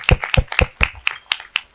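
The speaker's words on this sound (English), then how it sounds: "Give her a round of applause" Close, crisp hand claps at a conference evening session, about seven sharp claps in a steady even rhythm from a small group rather than a full roar of applause.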